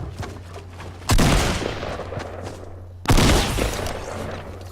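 Two heavy hand cannon shots in Fortnite boom out about two seconds apart, each with a sharp crack and a long rumbling tail, over steady game background noise.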